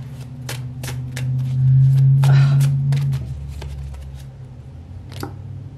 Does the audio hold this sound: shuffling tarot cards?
yes